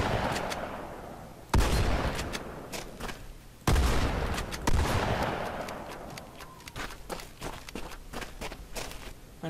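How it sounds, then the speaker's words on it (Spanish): Halo 4 shotgun fire rings out twice as loud booms, each trailing into a lingering echo, with quick footstep-like clicks and small impacts continuing throughout. "De hecho, hasta se escucha el eco del balazo."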